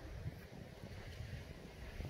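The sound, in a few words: strong wind blowing outdoors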